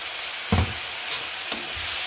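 Spice paste mixed with water splashes into hot masala frying in a wok for a Bengali oil koi fish curry, giving one sharp hissing burst, then a steady sizzle with a second, smaller splash near the end.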